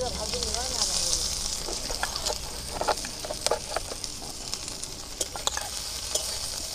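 Chilli and garlic sizzle in hot oil in a kadai while Rajbongshi small-snail dish is prepared, a close, continuous frying hiss broken by repeated scraping stirs and crackles.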